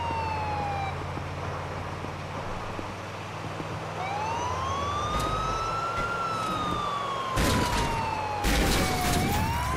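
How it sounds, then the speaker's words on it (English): An ambulance siren in the video game Grand Theft Auto 4 wails in slow rising and falling sweeps over steady traffic rumble, with a few sharp knocks near the end. "Ambulance coming through."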